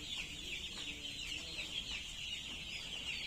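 Poultry chicks held in three brooding partitions on a farm chirp as a dense, steady high-pitched chorus of peeping that carries on continuously throughout.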